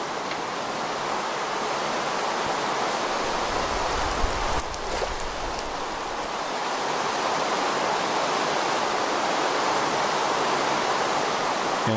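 Water flows and bubbles in the Minecraft video game, a loud continuous rushing wash like a stream, steady throughout with a brief deeper surge near the middle.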